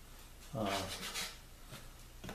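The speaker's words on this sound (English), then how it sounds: "First I want to sand off this" Hand sanding an aluminum extrusion with 150-grit sandpaper, a close, soft rasping rub in a couple of strokes, with someone speaking briefly over it.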